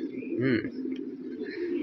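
A Bagha pigeon coos up close, with one rolling, throaty coo followed by softer murmuring.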